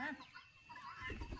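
Chickens on a farm at dusk, settling onto their roosts, give soft, faint clucks and low murmurs that grow a little denser toward the end.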